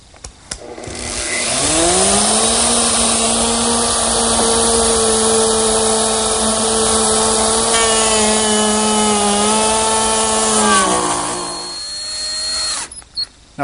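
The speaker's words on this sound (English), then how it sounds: "I'm going to continue using the 1/2-inch bit and plow out some material right in the middle" A wood router fitted with a 1/2-inch bit plows out a channel in the middle of a workpiece, a loud steady high whine that spins up, holds for about ten seconds with a slight pitch dip, then winds down.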